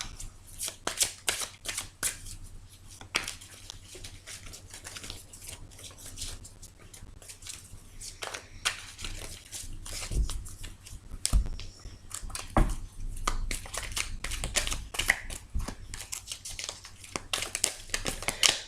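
Tarot cards being shuffled by hand, a run of quick crisp riffling and slapping bursts close up, irregular and continuous, with no talking.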